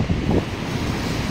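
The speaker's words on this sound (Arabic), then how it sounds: "شوفوا معايا البحر اليوم صعيب صعيب صعيب بزاف صعيب بزاف" Rough, heavy sea pounding the shore, a continuous loud roar of crashing surf mixed with strong wind buffeting the microphone, no voices.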